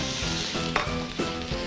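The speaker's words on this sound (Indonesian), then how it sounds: "Saat minyaknya sudah panas, baru kita masukkan si dagingnya tadi." Meat frying in hot oil for a potato rendang pie, a loud continuous sizzle close to the pan with a couple of brief stirring bumps and no voices.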